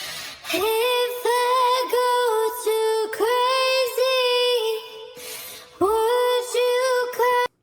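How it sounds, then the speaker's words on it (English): A solo sung vocal line plays in phrases, a clear melodic voice with sustained notes and short gaps between lines, no accompaniment. "That's the vocal that I'm using. It sounds like this originally."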